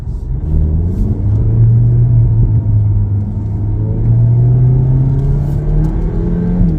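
A Cupra Ateca with a DCT dual-clutch gearbox downshifts, the engine note rising and holding in a steady, loud revving drone with a smooth pitch climb.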